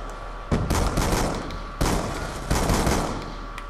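Gunfire in a first-person shooter game, loud bursts of rapid shots in three clusters with short breaks between them, close and heavy, with no talking.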